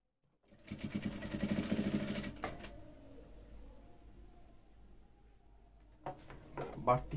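A sewing machine runs in a steady mechanical buzz while joining a fabric seam from above on a blouse neckline, loud for a couple of seconds, then softer whirring with clicks, and a person talks throughout.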